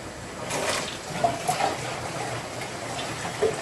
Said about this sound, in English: the water's flowing in, flowing up